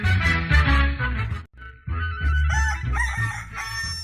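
A rooster crows loudly and close by, a long crowing call with a short break near the middle, heard in a village setting.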